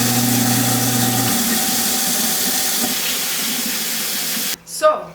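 Aquarium plants rinsed under a running tap, a steady close rush of water that cuts off abruptly near the end, followed by a brief voice.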